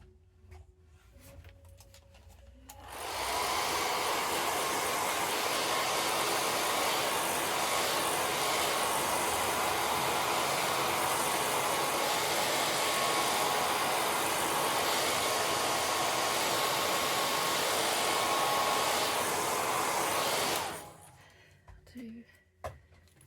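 A hair dryer drying paint on a small model hut gives a loud, steady blowing roar for about eighteen seconds. It starts and stops abruptly, with quiet room sound before and after.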